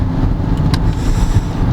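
A car driving along at speed, its engine droning loud and close with a steady road rumble and a brief brighter swell partway through, no speech.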